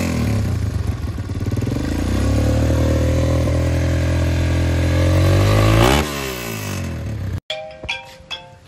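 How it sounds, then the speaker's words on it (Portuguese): A motorcycle engine idling to warm up, loud and close: a steady running drone whose pitch rises, holds and then sinks before the engine cuts out abruptly, followed by a few faint clicks. "Ô, Ryder, deixa ela batendo na lenta pra esquentar e não voar muito fluido"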